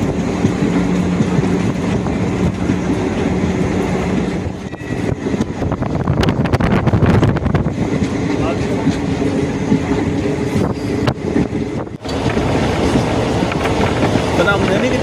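A train running on the main line between Tambaram and Trichy, heard from on board as a steady loud rumble and rattle with wind buffeting the microphone, continuous throughout.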